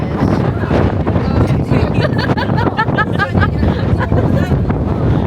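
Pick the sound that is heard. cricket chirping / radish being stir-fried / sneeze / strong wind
strong wind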